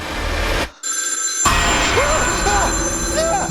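A telephone in the kitchen of a cabin in the woods rings with a sharp electronic bell, breaking off briefly before the ringing resumes, loud and close.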